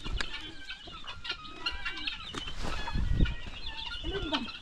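Chickens cluck and chatter in a village yard in Africa, with a busy mix of nearby clucks, short calls and some wing flapping.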